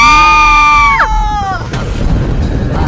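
Two people in an animated Hindi horror cartoon scream together, a loud sustained double shriek that suddenly drops off, followed by a rumbling boom and noisy crash.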